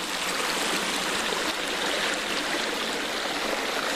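A creek flows steadily through a steep ravine among old-growth trees, a continuous close rushing and trickling of water with no pauses and no voices.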